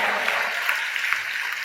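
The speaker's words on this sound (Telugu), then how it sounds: "మిగిలిన వాళ్ళు చప్పట్లు కొట్టి దేవుని మహిమపరుద్దాం." A church congregation at a baptism claps steadily and densely, a close, continuous patter of many hands with no pauses.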